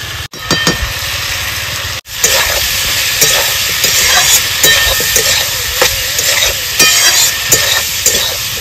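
Ground dried chilli paste fries loudly with potatoes and pointed gourd, a bright, close sizzle under repeated stirring scrapes, cut off by two brief drops to near silence early on.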